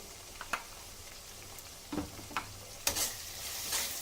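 A spoon stirs ground fennel, cumin and coriander frying in oil in a pan, giving a low steady sizzle with a few distinct scrape-and-clack strokes, brief and fairly quiet, with no talking.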